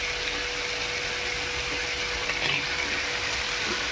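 Ground masala paste for a spicy sukkat rassa fries in hot oil, giving a steady, dense sizzle that holds evenly close by throughout with no voices.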